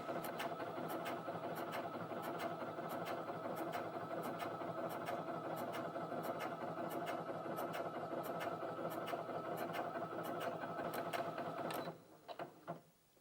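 A Brother Innov-is F560 computerized sewing machine stitches steadily at a constant rapid whir with regular needle ticks, running close and loud before stopping abruptly near the end.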